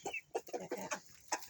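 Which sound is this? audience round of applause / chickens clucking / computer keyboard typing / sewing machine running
chickens clucking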